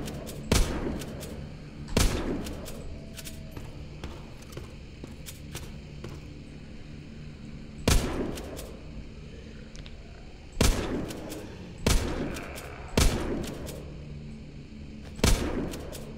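Gunfire aimed at zombies in the video game The Walking Zombie 2: sharp, loud single shots and short bursts spaced irregularly over a low steady background hum, with no speech.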